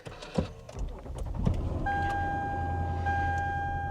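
A 2007 Lexus LS 460 engine starts: a few clicks and thumps, then the engine catches and settles into a steady, smooth idle hum with a faint high whine, close and without talk.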